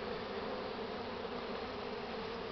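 A swarm of honeybees fills the air with a dense, continuous buzzing hum, steady and even throughout, faint and without breaks.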